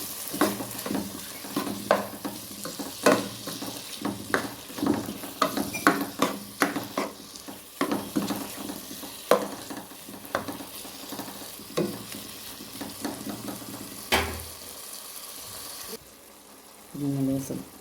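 Chicken sizzles and fries in a pan while being stirred for a macaroni dish, with repeated scraping stir strokes and utensil clinks over a steady hiss, close up, ending in a short quieter moment.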